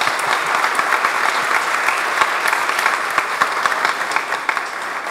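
At a human rights congress panel, a seated audience applauds a presentation, a steady, moderately loud patter of many hands with a few sharper individual claps standing out.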